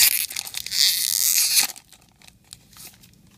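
A foil Pokemon XY booster pack is ripped open up close, a loud crinkly tearing burst for about a second and a half, followed by faint rustling of the wrapper.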